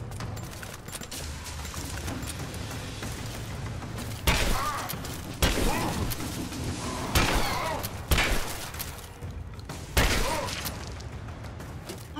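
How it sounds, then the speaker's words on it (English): In Rise of the Tomb Raider, a shotgun execution plays out as several heavy, booming blasts spaced a second or two apart over a continuous rumbling game ambience. "Oh shit. Shotgun execution."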